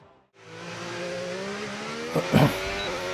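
A race car pulls away during a practice session at Circuit of the Americas in Texas, its engine rising steadily in pitch as it accelerates, loud and close, with a couple of short bursts layered near the end.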